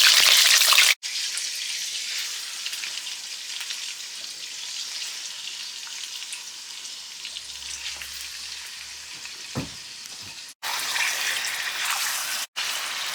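Chicken pieces frying in hot oil in a pan over a medium flame for a Chicken Afghani Karahi, a steady, dense sizzle and crackle, close and loud, broken by a couple of brief pauses, with no talking.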